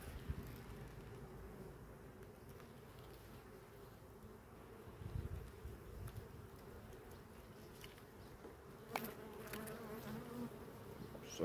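Honey bees buzzing around an opened hive, a steady, soft, close swarm hum that holds throughout, with occasional rustling and handling knocks.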